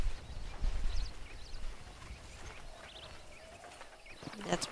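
Horse hooves clip-clop in Red Dead Redemption, a few soft rhythmic steps early on under a low rumble and faint game ambience, fading as the clip goes on.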